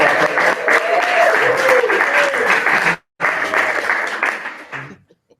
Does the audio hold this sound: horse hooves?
no